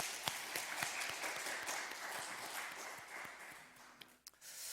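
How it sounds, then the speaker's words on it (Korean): A church congregation applauds during a Wednesday worship service, a steady wash of many hands clapping together, fairly soft and distant throughout and thinning near the end. "축복하는 박수 한 번 더 하겠습니다."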